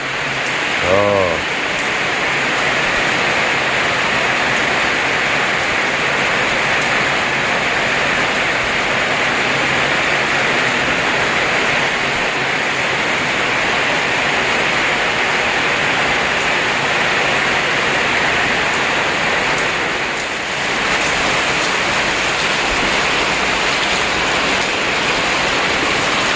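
Rain falling steadily in a mountain village in the Indonesian countryside, a dense continuous hiss of drops on surfaces that barely changes, with a brief dip near the end and a short knock early on.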